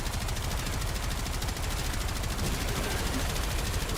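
Rapid, continuous automatic gunfire from a weapon in the video game Warframe, loud and dense, filling the whole stretch without pause.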